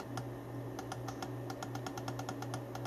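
Quiet, crisp clicks of a CM Storm Reaper aluminium mouse button repeat in quick irregular bursts over a soft steady hum.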